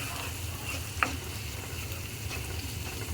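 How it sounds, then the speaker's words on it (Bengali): Spice mix lightly frying in oil for Bengali potol and egg curry, a steady soft sizzle with faint stirring scrapes and one sharp utensil tap near the start. "এবার এই মশলাটাকেই আমি তেলে হালকা একটু কষিয়ে নেব"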